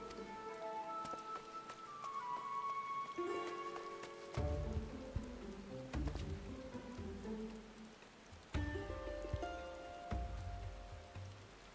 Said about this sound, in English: maybe the rain makes this a bit more dramatic